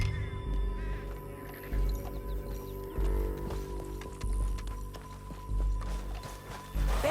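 Horse hooves clip-clop in a steady rhythm amid game ambience, with low thumps and faint distant bird caws over a continuous background.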